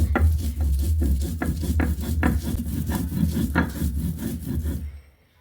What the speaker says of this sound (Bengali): এই যে ঝালটা বাটা হয়ে গেছে, আর একটু বেটে নেব